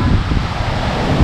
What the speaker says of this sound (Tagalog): sobrang lakas ng dagat, yung hampas ng tubig, sobrang lakas